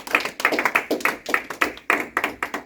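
A church congregation claps in a quick, uneven rhythm, a dense run of sharp hand claps close by and loud, with no voices over them.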